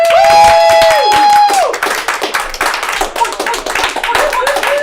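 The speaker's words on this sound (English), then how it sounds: "Give a round of applause for Lindsay Shaw." Audience clapping for a comedian at a live comedy show, loud and dense from the start, with a sustained tonal whistle or squeal early and shouts mixed into the ongoing applause.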